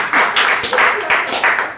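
A congregation at a Friday Holy Spirit worship service claps together in a steady rhythm, seven or so loud, sharp bursts in quick succession at close range.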